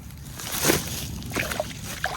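A snakehead fish released from a boat splashes and sloshes into the water, a short close splash followed by softer trickling and small dribbles.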